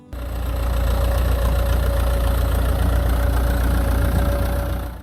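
A Massey Ferguson 165 tractor's diesel engine runs at a steady idle, a loud, continuous low rumble with a faint knocking pulse, fading in and out at the edges, no voices.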